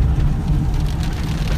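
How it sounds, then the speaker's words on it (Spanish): Steady rain falls by Lake Amatitlán, a dense, even wash of noise with a strong low rumble throughout, loud and continuous with no voices. "nos agarró la lluvia"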